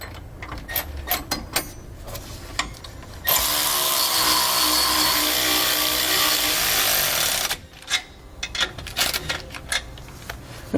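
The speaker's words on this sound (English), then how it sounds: "I'm going to snug up my 2 nuts holding the carriage bolts in place" A power tool drives a 9/16 socket to snug two nuts on carriage bolts while fitting helper springs on a 2019 Newmar RV: sharp ratcheting clicks, then a loud sustained whir of about four seconds, then more clicks.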